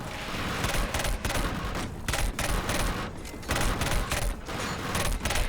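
Sustained bursts of turret gunfire in the shooter game Killzone Shadow Fall, loud dense rapid fire with brief gaps between volleys, no talk.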